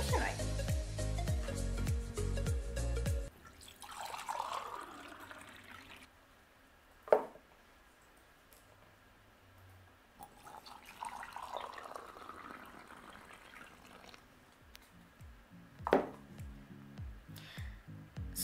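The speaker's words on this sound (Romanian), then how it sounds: "Turnați într-un pahar apă rece și în altul apă fierbinte și ascultați atent sunetul." Cold and hot water are poured from a tap into glasses, two separate filling sounds with rising tone, each ending in a clink, under a woman's speech at the start.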